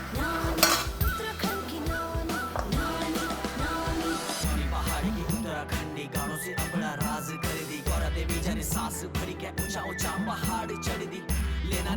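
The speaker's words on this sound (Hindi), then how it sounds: "अब इसमें मैं बेसन डालूंगी और फिर बेसन भूनूंगी" Gram flour (besan) roasts with bhatt beans in a pan, with repeated clinks and scrapes of a utensil against the metal and some background music.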